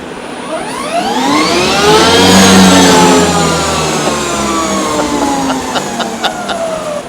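A Harley-Davidson LiveWire electric motorcycle accelerates hard, its loud rising motor whine sweeping upward in pitch before leveling into a sustained high tone with faint clicks.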